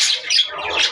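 A pet dove calls up close, giving loud, bright squawking and chirping notes in quick succession that fill the whole moment without other sound.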